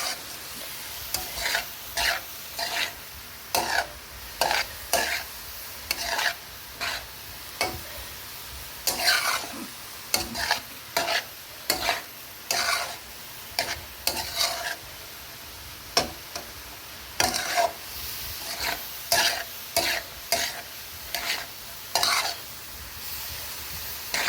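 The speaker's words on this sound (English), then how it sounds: "Mix it well." Cabbage curry with chili powder being stirred in a pan on a high stove, a long series of scraping spoon strokes in irregular bursts over a soft continuous sizzle, no talk.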